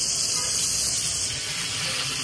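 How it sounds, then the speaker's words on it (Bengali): Fish frying in hot oil makes a dense, steady, close sizzling hiss that holds at an even loudness throughout, with no talking. "তো এখানে হচ্ছে মাছটা ভাজা হচ্ছে।"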